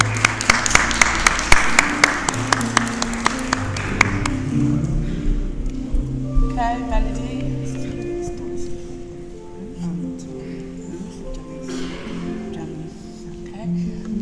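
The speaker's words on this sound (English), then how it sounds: "If they raise their hands, okay, we clap them" Church congregation at a Sunday service at a Baptist church clapping to welcome newcomers, a burst of applause that thins out after a few seconds, with talk and background murmur continuing afterward.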